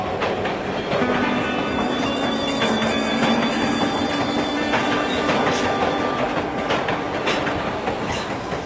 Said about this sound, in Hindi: इसके शहर को जाने वाली ट्रेन प्लेटफॉर्म नंबर 2 पर आएगी